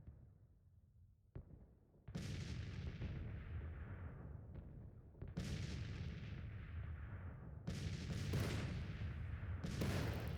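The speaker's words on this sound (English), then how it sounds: "The artillery nice and close." Heavy Civil War cannon fire in Grand Tactician: The Civil War near Vicksburg: several loud, close booms spaced a few seconds apart, each with a long rumbling decay, over a steady low battlefield rumble.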